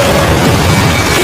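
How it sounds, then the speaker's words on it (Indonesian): Bazooka shot fired in an action film scene, a loud continuous blast with rumbling boom and crackling debris filling the short moment without pause. "ternyata tembakan basoka itu berasal dari wanita bernama Santana"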